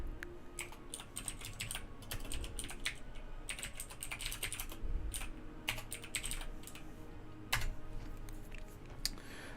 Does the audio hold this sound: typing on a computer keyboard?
yes